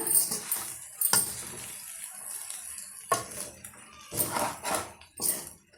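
Brinjal variety rice, mixed with a sprinkle of coriander leaves, is stirred in a pot. A spoon scrapes and knocks in bursts with short quiet gaps, close and moderately loud.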